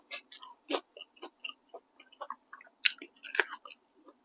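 Freshly grilled Isan sausage, hot off an oil-free air fryer, chewed up close in a series of soft, moist bites with small crunchy clicks and no speech.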